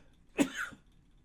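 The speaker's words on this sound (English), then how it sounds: "Sorry, I had to sneeze." A single person sneezes once, a brief, sharp, moderately quiet burst that rises and fades within half a second against near silence.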